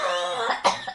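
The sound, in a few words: cough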